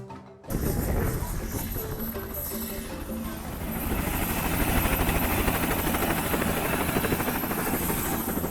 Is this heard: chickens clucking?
no